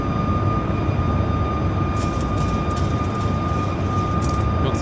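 A Luxair Boeing 737 Max 8 takes off from Washington DCA and climbs, its jet engines a loud, steady, broadband roar that holds for the whole span, with faint hiss flickering above it.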